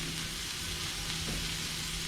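Cheddar-topped burger patty sizzling and frying in a pan for a Saturn Burger, a steady close crackle of fat that runs evenly throughout with no voices.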